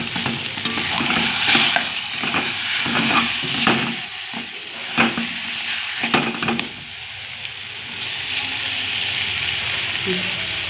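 Banana flower filling for mochar chop with ground garam masala being sautéed in a pan while its water cooks off: a close, steady sizzle with repeated stirring and scraping strokes, and a brief watery gush.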